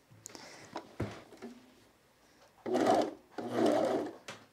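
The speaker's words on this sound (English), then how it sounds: "I'm gonna try one layer on my serger and see how it's looking." A serger stitching a single layer of fabric for a blouse runs in two loud bursts near the end, after a few quiet clicks and handling noises at the start.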